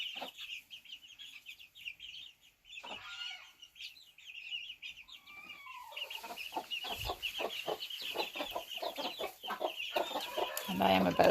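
Chickens cluck and chatter close by, a steady run of short calls that grows busier and louder toward the end.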